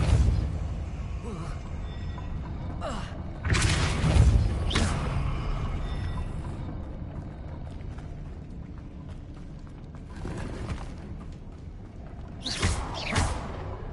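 Depulso force spells being cast in Hogwarts Legacy, several whooshing bursts and booming thumps spaced seconds apart, with mechanical creaks in between and a voice speaking over them.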